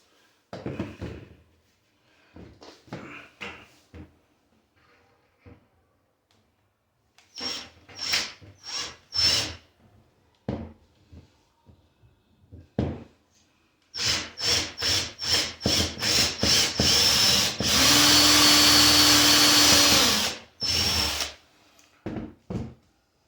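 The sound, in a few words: power drill countersinking screws in wood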